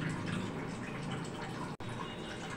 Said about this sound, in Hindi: पानी भी अच्छे से बॉयल होने लगा है